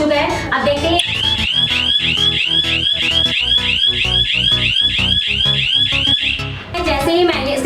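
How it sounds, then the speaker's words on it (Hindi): A loud home security alarm set off by a motion sensor blares continuously, a fast repeating electronic siren pulse holding steady for several seconds with no talk over it. "फटाफट से अलार्म जो इसका बहुत तेज ऑन हो गया था"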